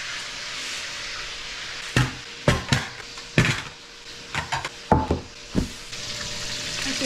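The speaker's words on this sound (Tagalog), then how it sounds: "Nagpiprito pa si Happy ng pork belly." Pork belly frying in a pan gives a steady close sizzle throughout, broken by several sharp knocks and clatters of utensils against the pan in the middle stretch.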